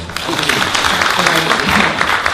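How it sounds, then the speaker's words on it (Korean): Students in a Korean history lecture hall applaud with a dense, fairly loud patter of many hands, with a voice faintly mixed in under the clapping. "박수 한번 쳐주시죠."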